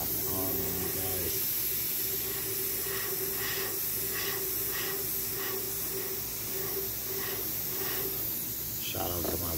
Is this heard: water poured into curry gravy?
no